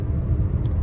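Small 2012 Scion iQ engine accelerating, a steady low rumble with a brief higher whine midway, close and continuous with no talk.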